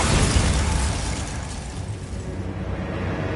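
Bombarda explosion spell in a wizard video game, a loud, dense burst of blasting noise right from the start that gradually thins into a rumbling, crackling tail over a few seconds.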